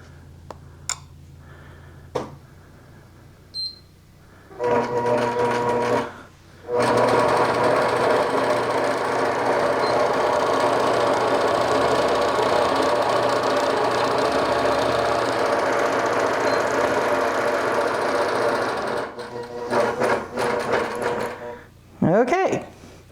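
A sewing machine stitching a fabric tree wall-hanging runs in a steady, rapid mechanical chatter for about fifteen seconds after a brief start, with short bursts and handling noises before and after, close and fairly loud.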